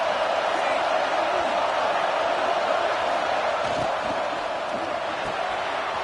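Roar of a football stadium crowd in a video game, a dense, steady wall of cheering and whooping heard close and loud throughout, with commentary voices talking beneath it.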